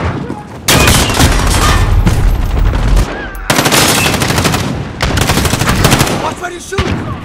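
Loud, dense automatic gunfire from Call of Duty: Modern Warfare, with long bursts of rapid shots broken by brief pauses and occasional heavier booms, filling the whole stretch close and forceful.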